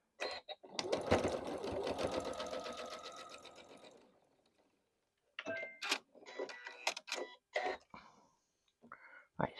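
A sewing machine stitches a strawberry quilt block in a rapid, close whirring burst lasting a few seconds. After a pause come short clicks and taps as the fabric is handled.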